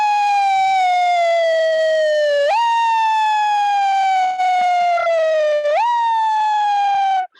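A loud ambulance siren wails continuously nearby, its tone sliding slowly downward then jumping back up twice, like an emergency vehicle passing close.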